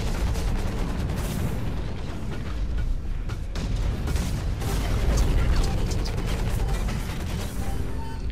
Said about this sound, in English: You can shoot through really any mechs pretty quickly with the ability activated.